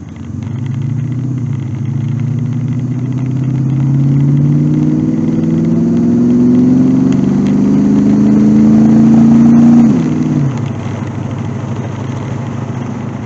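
A car engine on a road idles, then revs higher and builds as the car pulls out, dropping back abruptly near the end, loud and close with no talking.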